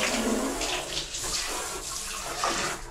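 Water streams steadily from a shower built from reused materials on a farm, a continuous broadband hiss with slight surges that stays loud and close throughout, with no talk over it.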